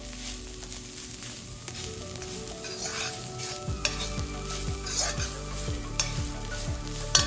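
Cluster beans stir-fry being stirred in a hot pan, with steady close scraping and tossing over a continuous sizzle, the strokes turning into a regular rhythmic scraping in the second half; no talking.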